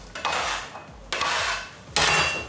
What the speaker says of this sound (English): Chopping the celery up.